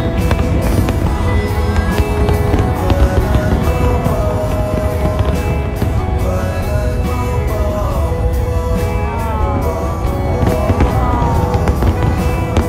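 A large National Day fireworks display in Hong Kong goes off in a dense, continuous barrage of crackles and pops with some whistling streaks, heard at a moderate distance over crowd murmur for the whole stretch.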